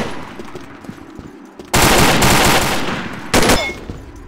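Gunfire bursts from the online shooter Legacy of War, with quieter background activity followed by a sudden loud sustained volley of rapid automatic shots, then a second short loud burst.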